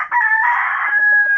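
A pet broadcock rooster named Kanaway gives a single close, loud crow, a sustained wavering call lasting just over a second with no talk over it.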